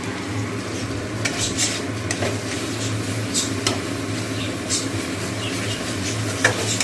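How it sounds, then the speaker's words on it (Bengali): Bhetki fish coated in mustard paste stirred in a pan, with spatula scrapes and metal clinks on the cookware over a steady low hum, faint sizzling beneath. "ভেটকি মাছটা সর্ষে বাটা দিয়ে করে নিয়েছি"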